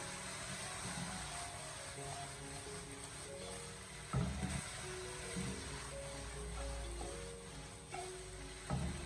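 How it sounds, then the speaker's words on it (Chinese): Green chilies stir-fried with chicken feet in a wok, heard as a soft, steady sizzle with a low rumbling bed and a few clanks from the spatula tossing the food. "再把青辣椒添加进来，然后再继续的将其进行快速的翻炒，把青辣椒给它翻炒至成熟"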